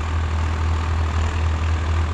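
A Swaraj 855 FE tractor, 2023 model, runs steadily during its run-in with a harrow attached; deep, even engine drone with a strong low hum, close and continuous, no voices.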